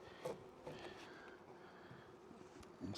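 Honey bees buzz softly around an open backyard hive, a faint, continuous hum with a few passing individual bees, fairly quiet and steady.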